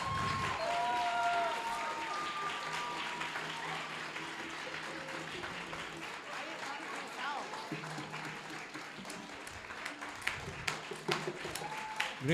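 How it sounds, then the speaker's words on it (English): Audience applause for a school's sixth grade teachers at a community stage show, a dense, steady roar of clapping that holds for several seconds and slowly thins, with voices and cheers mixed in. "give them a big round of applause?"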